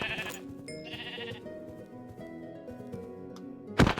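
A sheep in Minecraft bleating a couple of times over a soft musical background, its wavering calls near and clear, with a sharp click at the end.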